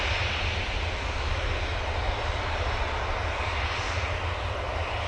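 An Airbus A380 jet takes off at Manchester Airport, giving a steady, loud, broad engine roar that holds at an even level throughout, with no voices.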